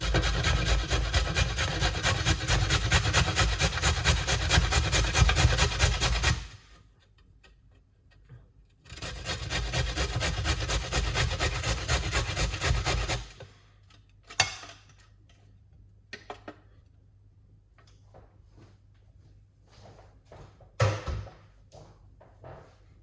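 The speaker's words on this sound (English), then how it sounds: "So the first thing is grate some carrot." Carrot grated by hand against a grater, two long stretches of continuous rough rasping strokes separated by a pause, followed by quieter scattered taps and scrapes.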